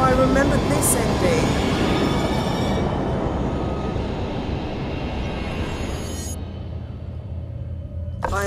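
A train in the video game The Room Three rumbles with a loud, steady low roar and wheel clatter, gradually thinning toward the end as the sound fades.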